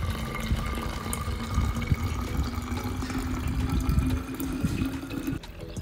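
Liquid being poured into a sprayer bottle for homemade tobacco pesticide, a steady gurgling fill with a rising tone that runs for several seconds and then stops, no talking.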